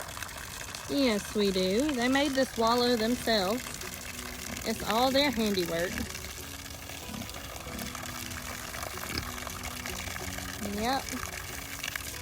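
Cold water pours steadily into a wallow on a farm, a continuous rushing wash running the whole time beneath people talking.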